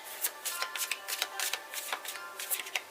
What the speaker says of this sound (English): I do 3 shuffles.